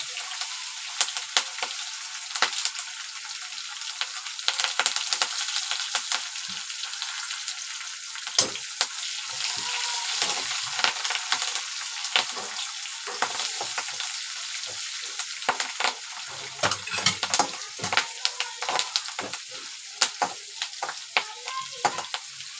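Curry leaves frying in hot oil for a crisp poha chivda, a steady close sizzle with crackling pops and occasional stirring, no voices.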